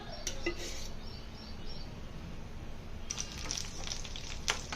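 Brinjal pieces frying in a pan of oil give a steady, close sizzle throughout, with a few brief clinks and crackles near the start and end.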